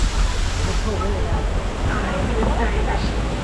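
A waterfall rushes at Kilimanjaro Safaris in Disney's Animal Kingdom on a rainy day, a steady, loud, broadband roar of falling water close by.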